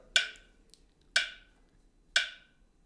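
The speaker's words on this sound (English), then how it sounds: "A really great tool is your metronome." A phone metronome set to 60 beats per minute gives three crisp, evenly spaced clicks one second apart, each sharp and quickly decaying, over a quiet background with no talking.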